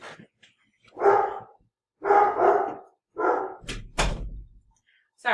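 A house dog barks in several short bursts, then a door thuds and slams shut nearby.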